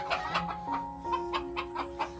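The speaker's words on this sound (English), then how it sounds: "we got some birds hollering right here" Gamefowl roosters in their pens, molting and losing feathers, give a string of close, repeated clucks and short calls, one sustained crow-like tone running underneath.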